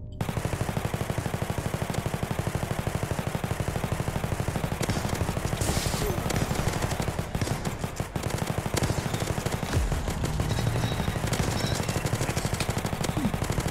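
A placed turret in a wave-defence shooter game fires nonstop rapid automatic bursts at incoming enemies, a loud, dense, continuous machine-gun rattle with scattered impact crackles, lasting throughout.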